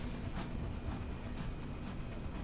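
A space locomotive in the video game Sunless Skies chugs steadily, with a dense low rumble and soft rhythmic bursts roughly twice a second, like a train rolling along.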